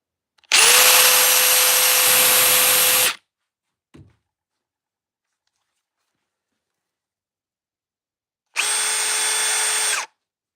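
A Surge Gen 2 impact driver runs at full speed when its trigger is pressed: a steady, high-pitched motor whine held for about three seconds, then a second, shorter run after a pause. The sound is close and loud, with no voices.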